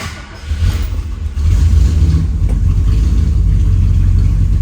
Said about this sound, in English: Now it is a big V8, so I'm going to pump it a couple of times first, and then fire it up